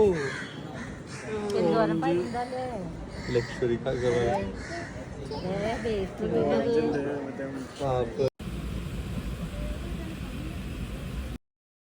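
Crows caw repeatedly amid a lively outdoor scene with voices chattering nearby; the calls are harsh and fairly close, ending with a quieter stretch of background noise.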